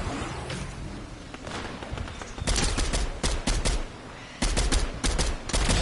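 Bursts of automatic gunfire in a Fortnite match, loud and close, arriving in two dense rapid volleys separated by a brief lull over steady game background noise.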